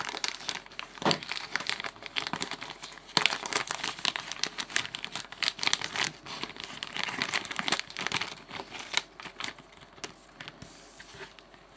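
A small plastic baggie holding a skateboard wheel order is torn open and crinkled, a dense run of close crackling and rustling that goes on for about twelve seconds without pause.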